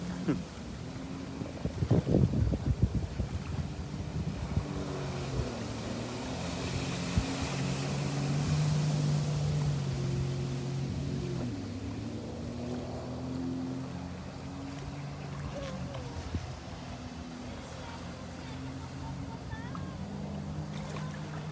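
Jet ski engine while riding on water, a continuous droning motor that rises and falls in pitch with splashing and wind, plus a few sharp bumps early on.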